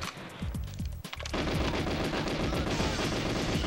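GoldenEye 007 gunfire rattles in rapid automatic bursts, loud and dense after a short opening of scattered shots, with the video game's effects filling the mix.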